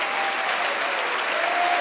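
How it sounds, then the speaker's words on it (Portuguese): A church congregation applauds, dense steady clapping sustained through the whole stretch with no voices above it. "vamos dar uma grande salva de palmas para a palavra do Senhor Jesus"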